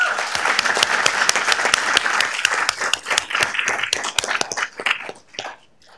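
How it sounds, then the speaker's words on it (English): An audience at a Downey city council meeting gives a round of applause: a loud, dense burst of clapping that thins into a few scattered claps before stopping. "So let's give him a round of applause."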